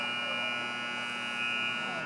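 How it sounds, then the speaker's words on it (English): Hockey arena buzzer ending the period in a Stars vs Marlies game, a loud sustained electronic tone holding steady throughout, with a commentator talking over it. "As the buzzer sounds"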